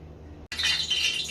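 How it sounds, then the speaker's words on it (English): After a brief silence, grease for frying whiting fish starts sizzling and crackling loudly, a bright steady frying hiss up close. "I don't know if y'all can hear that grease cussing and the fussing in the background"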